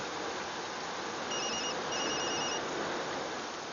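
A phone rings with short, bright electronic tones in two bursts over a loud, steady cabin-like hum aboard a flight in a film comedy scene; no one speaks.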